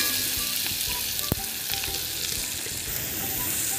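A coarsely ground masala of coconut, cumin and green chilli sautés in hot oil for a Marathi brinjal bhaji, giving a steady, close, crackling sizzle with no talk.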